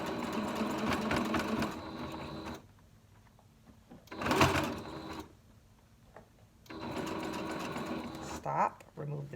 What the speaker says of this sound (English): Stretch the material. and sew.